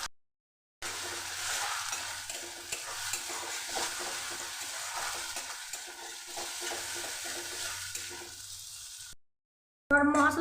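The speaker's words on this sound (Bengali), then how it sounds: "যে ভালো করে মশলাটাকে লাল করে ভেজে নিচ্ছি" Cumin, coriander powder and a pinch of turmeric fry in a pan, giving off a steady, soft hiss with faint stirring scrapes. The sizzle runs unbroken for about eight seconds between short silences, with no talking.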